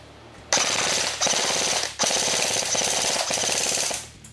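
G36 BB gun fires in rapid full-auto bursts, three long strings of fast mechanical rattling shots, loud and close, with brief pauses between bursts and no talk.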